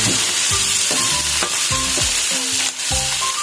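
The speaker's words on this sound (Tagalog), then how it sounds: "So medyo yung matitigas na parte muna unahin natin ilagay. Gisa-gisa lang yan." Pechay and cabbage sautéing in a hot pan, a continuous loud sizzle broken by repeated scraping and stirring strokes of a utensil, close up, with no voices.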